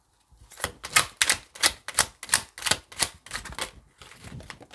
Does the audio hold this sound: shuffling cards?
yes